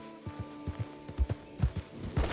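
Horse hooves clip-clop in Red Dead Online, a steady run of thudding steps close by that grows denser and louder toward the end, with no talk over them.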